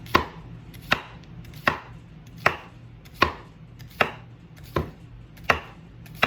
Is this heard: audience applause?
no